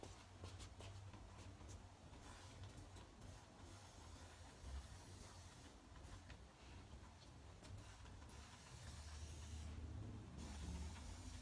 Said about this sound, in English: Okay, so we're just gonna spray everywhere.